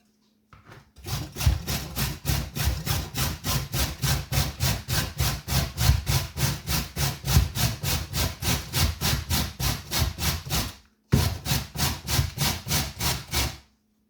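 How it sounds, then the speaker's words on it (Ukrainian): Carrots are grated by hand on a grater for sauerkraut, a fast, even run of loud, close rasping strokes that pauses briefly once before the rhythm picks up again. "Перш ніж шаткувати капусту, підготовляю моркву. Тру її на такій терці."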